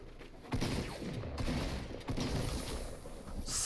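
Shotgun blasts in Fortnite, several heavy booming shots with mechanical clatter between them, close and loud, with no voices over them.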